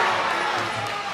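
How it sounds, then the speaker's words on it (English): Fight-night crowd at a Powerhouse Fight Series bout in Mackay, a dense roar of cheering and shouting that fills the space briefly and evenly, with voices mixed in. "The crowd here at Mackay loving it."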